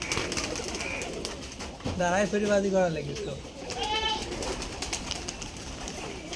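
Giribaz pigeons coo at a pigeon farm in a few rolling, throaty calls, heard under ongoing talk by a man nearby.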